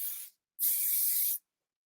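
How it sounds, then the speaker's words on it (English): Two close spray bursts of Shine Flash all-purpose hair oil from a pump bottle, a short hiss then a longer one after a brief pause. "and just spray it"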